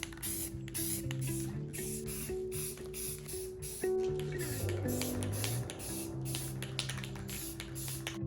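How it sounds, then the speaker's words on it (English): Spray paint hisses from an aerosol can in repeated short bursts while priming a wooden furniture piece, the spritzes rhythmic and close over a bed of background music. "I primed the whole piece with some spray paint"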